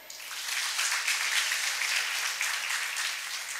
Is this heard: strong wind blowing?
no